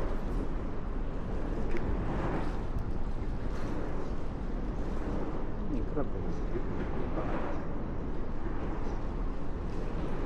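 Strong wind roars across the microphone outdoors, a constant rushing buffet lasting throughout, with faint voices beneath.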